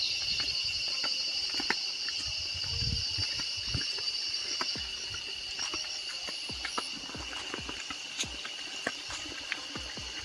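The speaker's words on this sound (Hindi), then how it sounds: "ये देखिए ये पानी बह रहा है और ये भरे हुए हैं नाले" Water flowing through filled drainage channels beside farm fields, a steady outdoor trickle and patter with scattered splashes, continuous and fairly close, no talking over it.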